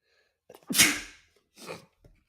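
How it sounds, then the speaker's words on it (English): A single sharp sneeze preceded by a quick inhale, followed by a brief breathy exhale, close and alone. "I'm about to sneeze."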